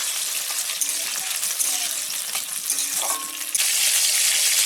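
Tomatoes dropped into hot oil with bay leaf and dried red chilli, crackling and spattering loudly in a close, continuous sizzle punctuated by sharp pops, ending in a sudden louder hiss, no talking.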